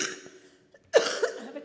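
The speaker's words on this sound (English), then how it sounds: "I have a terrible cough because of ragweed allergies." A single sharp cough up close, preceded by a soft throat sound and short quiet gaps.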